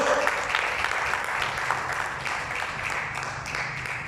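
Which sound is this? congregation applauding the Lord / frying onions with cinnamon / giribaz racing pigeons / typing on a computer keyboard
congregation applauding the Lord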